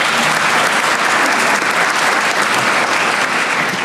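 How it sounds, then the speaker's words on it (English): Audience applause at a small business recognition awards ceremony: loud, dense, continuous clapping from a sizable crowd, sustained evenly throughout. "give them a round of applause"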